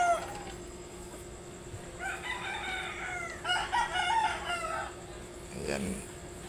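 Conditioned fighting roosters of Kelso, Cashline and Popeye Gray bloodlines at a gamefowl farm: one bird crows twice at moderate distance between soft clucks, over a low steady background hum.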